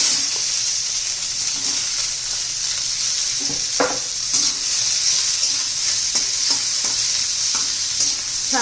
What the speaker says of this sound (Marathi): असं तांबूस रंगावर येईपर्यंत आपल्याला कांदा भाजायचा आहे